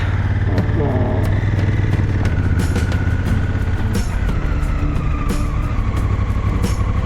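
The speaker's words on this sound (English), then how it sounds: "Oh, there are so many cars." Cars pass on a road near Fruška Gora, Serbia, heard from a moving motorcycle: a constant loud engine and wind drone, with passing vehicles swelling briefly above it.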